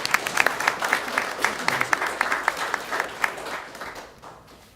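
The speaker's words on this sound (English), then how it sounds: "Let's give her a big round of applause." A school board meeting audience gives a round of applause for a 4th grade student of the month, a steady patter of many hands clapping close by that fades out toward the end, with a voice faintly underneath.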